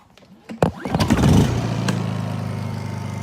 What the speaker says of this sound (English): I'll start the Honda first here.